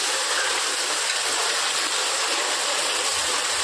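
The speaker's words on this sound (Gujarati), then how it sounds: "ધોધમાર વરસાદ આવી રહ્યો છે મહેસાણામાં" Heavy rain pours down in Mehsana as a constant, loud hiss with no pauses or talking.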